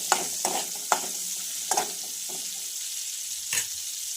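Whole spices frying in butter and oil for kurma, a steady bright sizzle up close, punctuated by a handful of crisp taps and scrapes as the pan is stirred.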